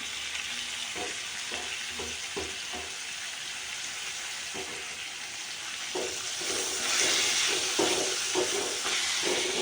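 Onion tomato chutney sautés with coriander in a pan, giving a steady sizzle and hiss with occasional soft stirring scrapes, close and moderate in level. No one talks.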